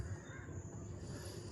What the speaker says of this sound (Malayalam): ഈ ദ്വീപിൽ ഒട്ടനവധി പക്ഷികൾ കൂടുകൂട്ടി താമസിക്കുന്നുണ്ട്.